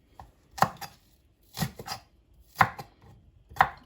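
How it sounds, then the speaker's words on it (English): A knife chops spring onion into thin slices on a board, four sharp, close chopping bursts spaced about a second apart, with no talk. "Like I said, cut the spring onion to the thin way."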